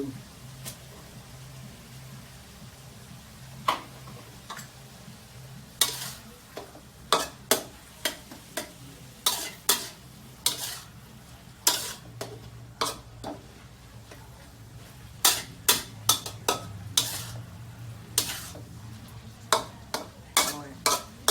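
Cuttlefish being stir-fried with holy basil in a pan, a steady low sizzle under repeated sharp clinks and scrapes of a utensil against the pan, irregularly spaced, fairly quiet, with occasional faint talk.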